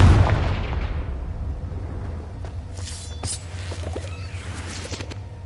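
A Confringo blasting-spell explosion in a Harry Potter video game opens with a loud booming blast that decays into a low rumble, followed by faint crackles and small pops.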